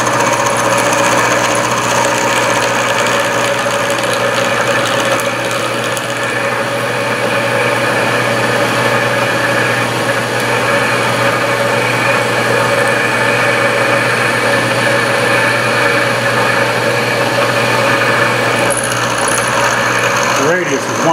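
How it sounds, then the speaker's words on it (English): Machine making the final cut on a 7/8 inch radius on a workpiece, a loud steady hum with a grinding, rattling cutting tone running unbroken throughout. "This is the final cut on this 7/8 inch workpiece radius."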